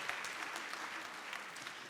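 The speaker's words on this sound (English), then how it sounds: "I think they deserve like a huge round of applause" An audience applauds the choirs at a school music concert, dense steady clapping from a large crowd filling the space evenly without pause.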